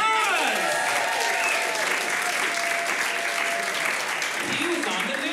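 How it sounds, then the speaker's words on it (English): Loud, continuous applause from a live show audience for an ASL interpreter, a thick wash of clapping with cheers and voices rising over it. "Give him another round of applause."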